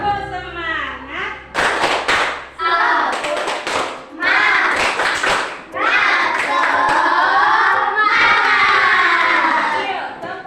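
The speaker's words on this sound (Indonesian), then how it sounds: "Oke, tepuk semangat." Schoolchildren standing in a classroom perform a rhythmic spirit clap, with bursts of hand claps and thumps alternating with loud chanted group voices, close and energetic throughout.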